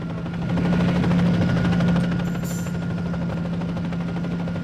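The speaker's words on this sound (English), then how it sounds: "So there's a helicopter over there." A helicopter in the video game Garry's Mod gives off a continuous, droning rotor hum with a steady low throb. It swells briefly and then holds at a fairly loud level, with no voices over it.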